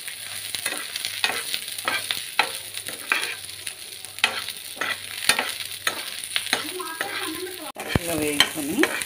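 Green chillies sizzling in hot oil with seasoning seeds in a pan, a steady crackling fry broken by repeated scraping taps of a spoon stirring, with a louder clatter near the end.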